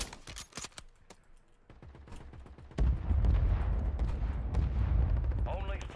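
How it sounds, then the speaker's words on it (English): Mortar strike explosions in a battle royale video game, a run of sharp booms early on, then a sustained deep rumble and roar through the second half. "Copy that. Mortar strike inbound."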